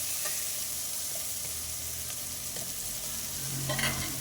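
Beef curry masala being stirred and fried in a pan, a continuous sizzling hiss with soft scraping from the spoon, steady and close.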